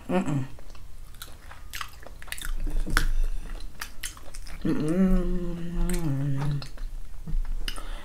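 Someone eating a snail with fufu and GB soup makes close, moist chewing and biting sounds, soft squishy crunches repeating at an irregular pace, with a brief hummed or voiced tone partway through.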